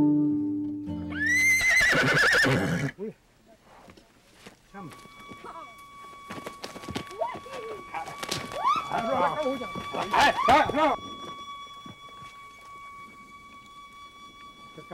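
A horse gives a loud, drawn-out whinny right at the start, then hooves clip-clop and further snorts and calls follow in a plains ranching setting, with people speaking over parts of it.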